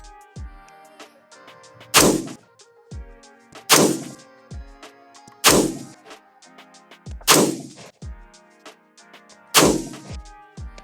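A White Label Armory AR-15 rifle fires 69 grain Sierra MatchKing hollow-point boat-tail .223 loads. Six sharp, loud single shots ring out at slow, even intervals, each with a quick echoing tail, and faint clicks and handling noises fall between them.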